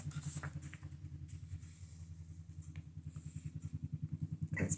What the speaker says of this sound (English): That's my son's motorcycle getting ready to leave